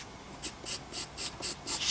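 Pencil drawing hair strokes on a horse sketch, six quick scratchy strokes in an even rhythm, close and fairly quiet, with no voice over them.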